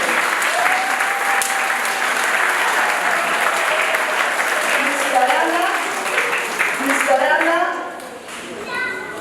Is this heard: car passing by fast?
no